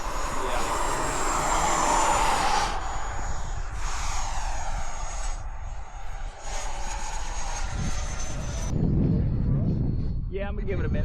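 Radio-controlled F-16 model jet on 8S power, flown in high winds at Fritz Field, gives a loud, steady, high-pitched turbine-like whine with roaring air that swells and fades across several passes before cutting off abruptly near the end.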